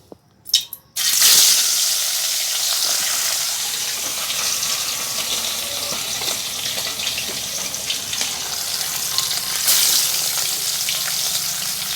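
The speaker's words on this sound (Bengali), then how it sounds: "সব কটা মাছই আমি ভেজে নেব" Loud, steady sizzling of salted fish frying in a wok, a dense hiss that starts abruptly after a brief clatter and continues without talk.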